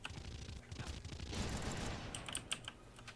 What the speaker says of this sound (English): Fucking bullshit ass turret.